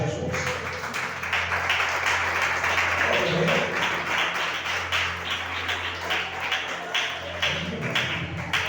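Church congregation clapping in praise at a Friday prophetic service, a dense, steady wash of many hands filling the hall throughout, with a low sustained hum beneath and faint voices mixed in.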